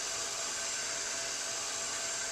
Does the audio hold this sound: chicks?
no